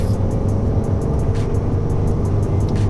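A Fox-body car engine drones steadily from inside the vehicle, rising as it accelerates in fourth gear around 50 to 60 mph, with road noise underneath and no talking.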